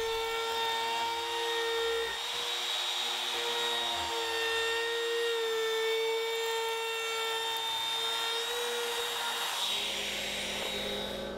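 A wood router cuts into a bookshelf workpiece clamped in a shop, giving a steady, loud high-pitched whine that holds for several seconds and then shifts in tone near the end, with no voices.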